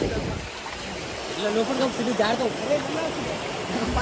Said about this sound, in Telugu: చిన్న వాటర్ ఫాల్స్